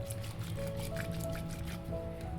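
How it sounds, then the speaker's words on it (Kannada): Gram flour batter being mixed with curd and water in a bowl, giving steady wet squishing and dripping sounds throughout, close and continuous with no talking. "ಇವಾಗ ಸ್ವಲ್ಪ ನೀರನ್ನು ಹಾಕಿ ಚೆನ್ನಾಗಿ ಇದನ್ನು ಮಿಕ್ಸ್ ಮಾಡ್ಕೊಳ್ಳೋಣ"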